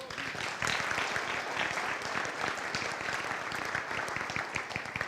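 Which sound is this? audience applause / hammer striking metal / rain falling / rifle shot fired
audience applause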